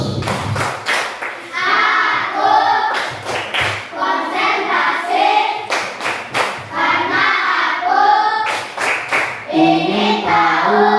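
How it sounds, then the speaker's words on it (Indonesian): Schoolchildren in a classroom perform a rhythmic focus clap, with sharp sets of group claps alternating with their chanted voices in a repeating call-and-response pattern, loud and close. "Oke, anak-anak tepuk fokus."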